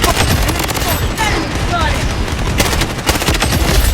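Rapid, dense gunfire from a P90 in the video game Blood Strike, with near bursts of automatic shots rattling almost continuously while someone talks over the action.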